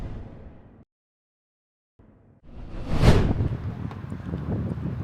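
Strong wind gusting outdoors near a butcher shop, a loud buffeting rush swelling after a brief silence and roaring across the mic in the second half.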